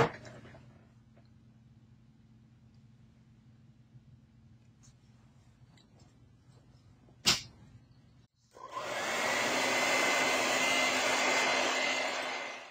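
A hair dryer switches on after a quiet stretch and a single sharp knock, then blows loud and steady for several seconds, drying a Christmas card painting of a snow-covered farm.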